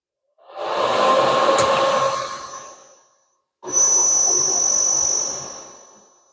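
A drilling machine drives a tap into a rear cylinder cover in two sustained whining runs of about three seconds each, loud and close, with a short silence between them.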